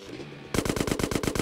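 Automatic gunfire in the video game GTA San Andreas, a rapid burst of about ten loud, evenly spaced shots starting suddenly after a quieter moment.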